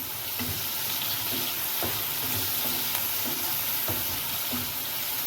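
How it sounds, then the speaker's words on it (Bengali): Steady sizzling of onions and tomatoes frying in a hot pan, with occasional soft scraping as they are stirred, continuous and fairly close. "এবার কিছুক্ষণ আমি এই পেঁয়াজ টমেটো ভালো করে একটু ভাজা ভাজা করে নেব।"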